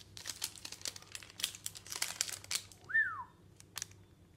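Crinkling of a small paper wrapper being opened from around organic chocolate, a run of close, dry rustles followed by a brief whistle-like tone near the end, with no talking.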